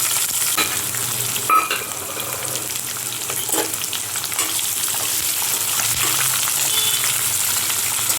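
Loud, constant sizzle of onions and green chillies frying in oil, broken by occasional clanks of a spoon stirring the pan.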